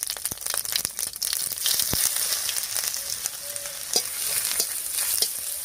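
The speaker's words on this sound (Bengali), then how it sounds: "জিরা আর শুকনো লঙ্কাটা ভাজা হয়ে গেছে, এবারে দেবো থেতো করা আদা" Crushed ginger sizzles in hot oil already holding fried cumin seeds and dried chillies, a steady close crackle and hiss with sharp pops and stirring scrapes throughout, no voices.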